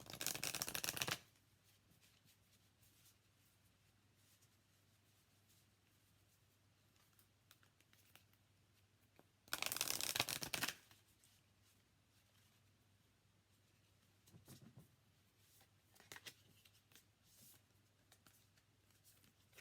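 A deck of tarot cards is shuffled in two short, brisk riffling bursts separated by a long quiet stretch. Faint handling and tapping sounds follow near the end, over a soft background hum.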